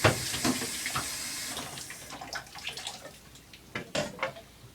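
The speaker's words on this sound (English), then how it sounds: "you're going to run your lukewarm water over your French horn and get all the suds off" Lukewarm tap water runs over a French horn to rinse off soap suds, a continuous splashing flow with irregular splatters and metallic knocks as the instrument is moved under the stream, close up.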